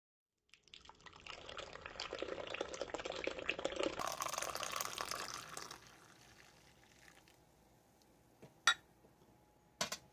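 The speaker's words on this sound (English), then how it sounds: "now for this cup of coffee, we got 6 ounces of previously boiling water" Six ounces of previously boiling water poured into a cup for instant coffee, a steady close splashing stream for several seconds that thins to a trickle, followed by a couple of sharp drips or taps.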